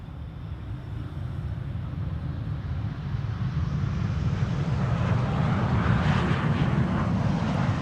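An airliner landing on the Polderbaan runway 18R at Amsterdam Schiphol Airport builds into a broad, steady engine roar that swells gradually as it approaches, heard at a distance with light wind noise.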